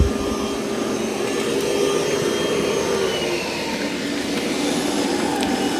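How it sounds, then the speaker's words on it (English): A Roborock Qrevo Curv robot vacuum runs with its suction boosted on carpet, giving a steady, loud whirring drone that holds even throughout with no talk. "it's going to increase the suction power when it's on carpet"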